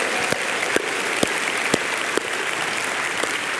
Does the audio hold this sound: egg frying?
no